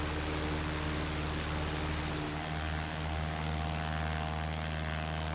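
A Cessna Skyhawk propeller engine in a flight simulator game drones steadily and loudly, its even hum holding a constant pitch throughout with no talk over it.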